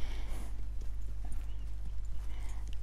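Horse hooves trotting in Red Dead Redemption 2, a steady rhythmic clip-clop of hoofbeats over a low rumbling background, close and continuous through the stretch.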